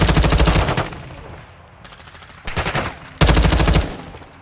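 Sustained automatic gunfire in Call of Duty Modern Warfare 2, loud rapid bursts that pause and resume, with a softer stretch of distant shooting between heavy close volleys.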